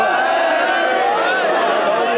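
At a majlis in Tambray, Sialkot, a large crowd chants a slogan loudly in unison, a dense, sustained roar of many voices filling the whole moment.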